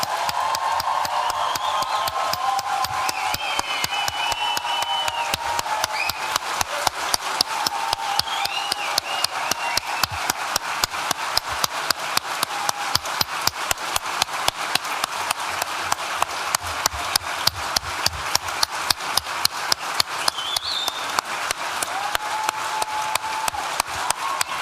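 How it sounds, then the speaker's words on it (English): A large graduation-ceremony audience claps steadily for the class of 2023 at the Nottingham School of Art & Design, a sustained, dense wash of applause that grows into rhythmic unison clapping lasting the whole stretch. "I would like another really rousing round of applause for the class of 2023."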